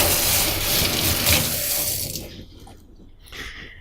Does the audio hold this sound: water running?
yes